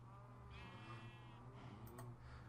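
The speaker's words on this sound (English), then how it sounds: "we now have 3 sheep" Sheep bleating in Minecraft, a few short wavering bleats over a steady low hum of game ambience, fairly close and moderately loud.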